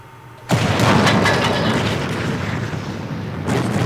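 A tank cannon fires in a World of Tanks–style video game: a single loud, close boom that rolls on in a long rumbling tail, a second burst following near the end.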